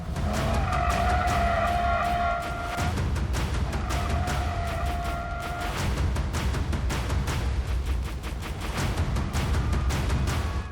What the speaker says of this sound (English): Let's turn left here to create some additional drift and to demonstrate once again just what this car is capable of